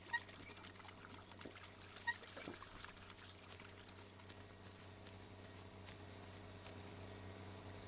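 Water poured out steadily in the game My Summer Car, a faint, continuous trickling stream with a couple of soft knocks near the start, heard over a low background hum.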